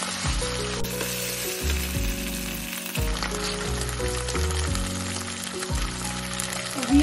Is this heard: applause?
no